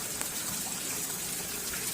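Water trickling and gushing steadily out from inside a rocky stone hillside at a temple, a continuous close, soft wash of flowing water with no voices.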